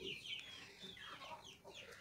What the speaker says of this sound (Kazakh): Міне менің тауықтарым, кучинский юбилейнияларым